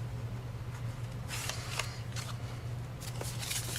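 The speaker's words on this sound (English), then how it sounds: "And then we want it to just give it a good burnishing there." Folded paper card being burnished, a few short scraping rubs in quick bursts over a steady low hum, close and fairly quiet.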